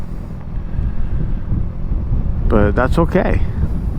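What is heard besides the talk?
strong wind blowing on microphone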